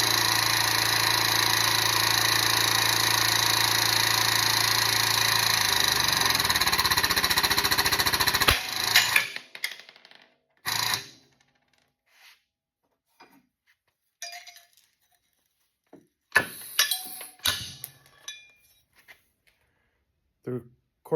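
DIY hole punch driving through 1/4 inch metal in a home shop: a loud steady grinding mechanical roar for about eight seconds stops abruptly, followed by scattered metallic clinks and short bursts; a person talks.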